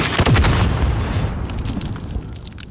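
A rocket explodes in a multiplayer shooter video game: one loud, deep boom right at the start, followed by a rumbling decay that fades over the next couple of seconds.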